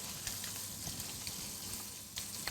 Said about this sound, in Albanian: Kjo është skuqja që i duhet pancetës